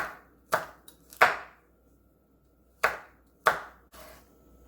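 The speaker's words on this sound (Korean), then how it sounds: "홍고추 하나 썰어줄게요" Knife chopping a red chili pepper on a cutting board, five separate sharp thunks spaced irregularly with quiet gaps between, close and crisp, no voices.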